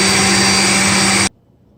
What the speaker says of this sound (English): We're just gonna put it in the extractor.